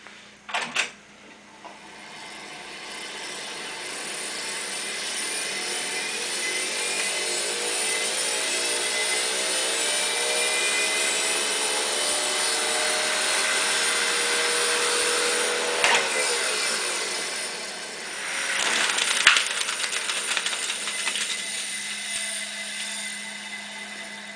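A well-worn Studer A80 reel-to-reel master tape recorder runs with a steady whirring, hissing drone for over twenty seconds, framed by mechanical clicks near the start and a clunk toward the end.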